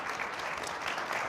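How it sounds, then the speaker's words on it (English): Audience applause at a National Press Club headliner event, a steady wash of many hands clapping at once, fairly soft and distant, with no voices over it. "you can give a round of applause to Erin and her team."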